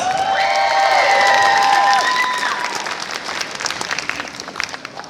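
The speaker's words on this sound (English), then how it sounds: "Give her another round of applause." A crowd claps and cheers loudly at a cosplay contest at a convention, with whistles rising at first, then the applause gradually thins out.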